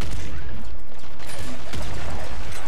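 Enemy gunfire in the top-down shooter Nuclear Throne during a mini boss fight, a loud dense barrage of rapid overlapping shots and impacts in quick bursts.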